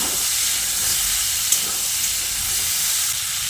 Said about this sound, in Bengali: এবার আমি এখানে বেশ কিছুটা পরিমাণে ভিজিয়ে নেওয়া ছোলা দিয়ে দিচ্ছি। ছোলাটা দিয়ে আবারও মিশিয়ে নিচ্ছি।